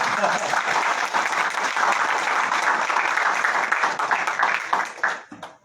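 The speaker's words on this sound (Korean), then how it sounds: "박수 한번 쳐주세요" Applause from the audience at a press conference where a Yongin mayoral hopeful declares his candidacy, dense and steady for about five seconds and then fading out at the end.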